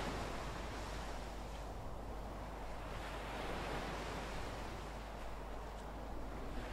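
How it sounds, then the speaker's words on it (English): Big ocean waves in the Britannic ship game, a continuous faint wash of surf and wind-like rushing noise with no distinct breaks, distant and steady, no voices. "Whoa, that's a lot of big waves there."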